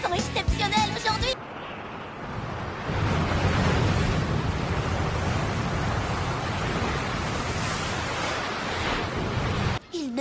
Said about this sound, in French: Les vagues sont exceptionnelles aujourd'hui.